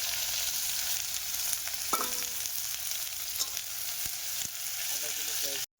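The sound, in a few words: onions frying in oil with cumin, dried chili, bay leaf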